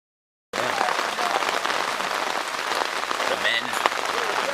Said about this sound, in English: Who the hell likes rain?